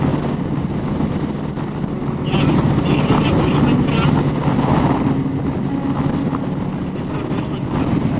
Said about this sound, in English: for a 31-year-old bike, this thing sure does cruise nicely on the highway